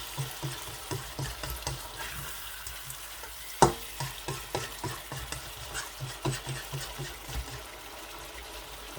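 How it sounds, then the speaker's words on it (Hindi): Mutton frying in yogurt in a kadahi, a close crackling sizzle punctuated by a regular rhythm of ladle scrapes and knocks against the metal, one sharp clang near the middle, no speech. "अभी अच्छी तरह से गोश्त को दोबारा से तकरीबन 4-5 मिनट के लिए मैं भून लूँगा दही में"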